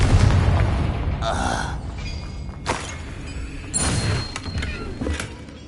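A Confringo blasting spell from Hogwarts Legacy bursts in several sharp booms and pops, separated by quieter stretches of game ambience, with fairly loud, spaced-out impacts.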